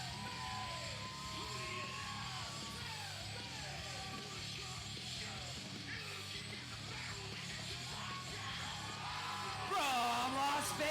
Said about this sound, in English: you could hear the crowd excited that the bridge burner is back